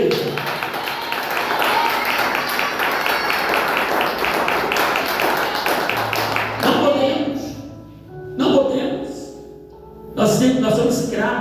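A church congregation at a family worship service breaks into sustained applause, a dense clatter of many hands that fades out near the end while a preacher's voice comes through in short bursts.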